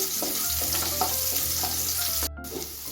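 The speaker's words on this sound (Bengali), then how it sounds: "এখন আমি আদা রসুন কুচিটা দিয়ে দিচ্ছি দশ থেকে পনেরো সেকেন্ড একটু ভেজে নিচ্ছি" Chopped ginger and garlic fry in hot oil over a low flame, giving a steady, close sizzle with soft stirring scrapes that holds evenly throughout, no voices.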